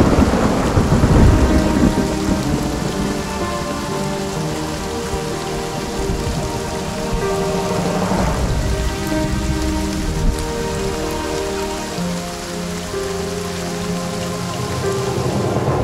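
Heavy rain pours down steadily while deep rolls of thunder rumble through, loud and close, with no voices over the storm.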